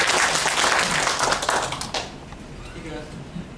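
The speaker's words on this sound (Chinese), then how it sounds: "我们今天大家就鼓掌欢迎叶主任帮我们上场" A lecture audience at a county medical association meeting applauds to welcome an orthopedic surgeon. Dense, steady clapping fills the first two seconds, then fades quickly to a quieter room with some voices.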